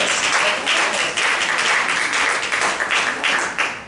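A church congregation claps hands together in a steady, dense round of applause that carries on through the whole stretch, with no talking over it.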